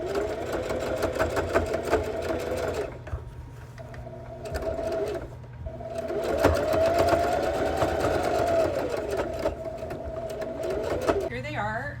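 A sewing machine zigzag-stitches yo-yo quilt pieces onto a pair of jeans, running in bursts of rapid mechanical whirring with brief pauses between runs, loud and close.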